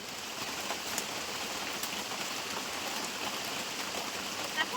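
Rui fish sour curry broth bubbling in a pot gives a dense, steady hiss and crackle of boiling liquid, close and continuous, with no voices.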